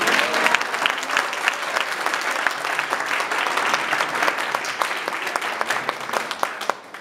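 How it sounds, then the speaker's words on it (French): Church congregation applauding during a healing service in Metz, France, a loud sustained burst of many hands clapping that swells, then thins and fades at the end. "On applaudit le Seigneur, gloire à Dieu."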